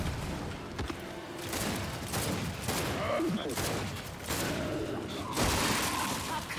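Gunfire in the Gears 5 video game comes as dense, continuous volleys of loud shots in several bursts, with a voice speaking now and then beneath it.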